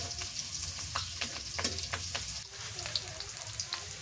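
Garlic and chili sizzling in hot oil in a pan for a radish and greens dish, a steady crackling fry with sharp spattering pops and occasional stirring scrapes, close and continuous.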